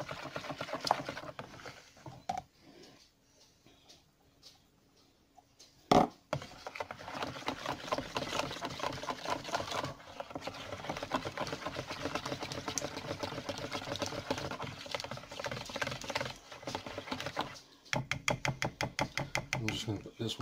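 Bloomed yeast is whisked into bun dough mixture in a bowl, producing quick rhythmic tapping and scraping that starts after a quiet pause, with a short loud clank near the middle.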